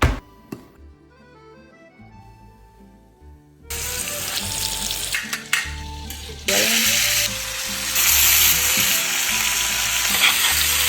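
Food fries in a pan over a gas flame with a steady, hissing sizzle that grows louder and denser partway through. Clinks and kitchen handling noises sit beneath it, and no one talks.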